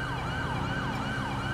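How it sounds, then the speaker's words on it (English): A wailing police siren from the game LSPDFR cycles up and down repeatedly, steady and fairly loud, with synthetic game-like engine hum beneath. "Believe that's my siren that's on."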